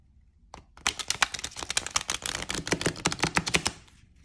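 A tarot card deck is riffle shuffled up close. A brief handling sound comes first, then a rapid, crisp burst of flicking card edges over about three seconds, ending abruptly into quiet.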